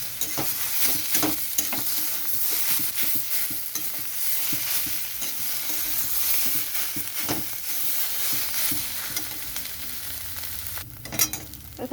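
Banana flower mixture gets stirred with roasted ground cumin, dried chili and bay leaf spice in a pan, making continuous soft scraping strokes over a light sizzle, with a sharper knock near the end.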